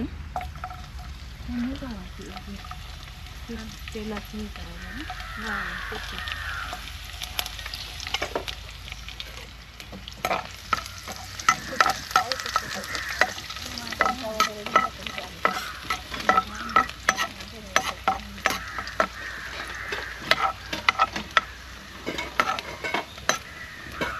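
Garlic frying in a pan during caravan cooking: a steady sizzle runs throughout under a voice, with repeated scraping and clinking of a spoon stirring against the pan growing busier toward the end.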